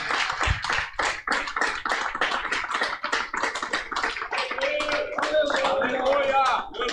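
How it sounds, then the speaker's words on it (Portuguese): Church congregation clapping in steady, dense rhythm for several seconds, the claps loud and close, with voices and singing rising underneath toward the end. "Você pode aplaudir ao Senhor?"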